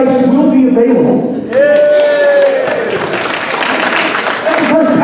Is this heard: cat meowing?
no